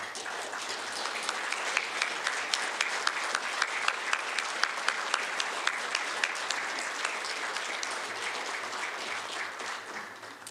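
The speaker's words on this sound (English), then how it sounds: "will all of the student nominees please stand and be recognized with a round of applause?" A ceremony audience gives a sustained round of applause as student nominees stand to be recognized. Many hands clap steadily for around ten seconds, with individual sharp claps standing out.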